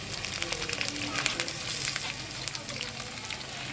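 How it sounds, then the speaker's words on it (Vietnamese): Marinated freshwater shrimp fry in hot oil with a steady, dense sizzle and crackle that stays close and fairly even throughout, with no talking. "Chiên tôm su á."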